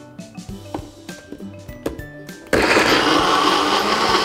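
An electric blender grinding tomato, garlic and balado seasoning starts halfway through with a loud steady whirring roar, preceded by clinks and knocks of preparation, no talk.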